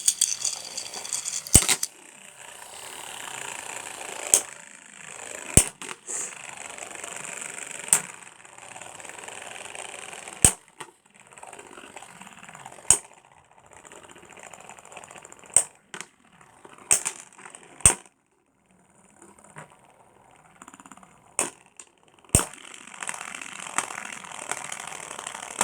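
Reaper Incendio Beyblade spinning tops battle in a plastic stadium, a faint whirring buzz broken by repeated sharp clacks of collisions spread across the stretch, with a short silent gap near the end.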